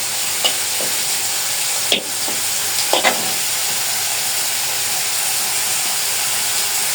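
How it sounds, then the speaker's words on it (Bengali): Noodles lightly frying in a pan give a steady, loud sizzle and hiss throughout, broken by a few sharp scraping stirs of a utensil against the pan in the first few seconds. "এটা একটু আর কি হালকা একটু ভাজা ভাজা করবো।"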